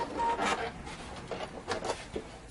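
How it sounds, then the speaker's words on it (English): Pfaff Quilt Ambition 630 sewing machine running its automatic thread cutter, a short series of soft mechanical whirs and clicks at close range with no talk. "We can then use our thread cutter"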